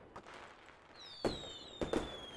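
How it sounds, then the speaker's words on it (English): Fireworks in the Carpe Diem Reboot video game, a faint whistling rise followed by a few soft pops and bursts over a quiet low background, distant and subdued. "Not long after, fireworks filled the night sky."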